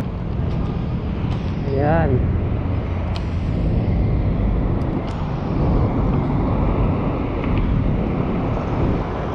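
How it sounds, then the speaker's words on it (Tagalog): Steady street traffic from vehicles on a Manila city street forms a continuous roar, with a brief tonal horn or brake squeal early on and a voice talking over it. "Paglabas mo dito, balik na uli yung ingay. Ingay ng mga sasakyan."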